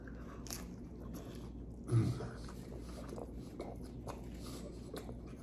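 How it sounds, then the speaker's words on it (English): A single crunchy bite into a Taco Bell cheesy Gordita Crunch, close and fairly loud, followed by soft chewing over a low background hum. "The cheesy Gordita Crunch from Taco Bell."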